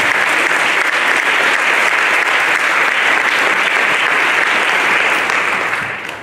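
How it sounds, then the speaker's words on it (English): A church congregation claps hands in praise during a worship service, a dense, sustained wash of applause from many people that holds steady and fades slightly at the end. "Why don't you clap your hands and give God some praise."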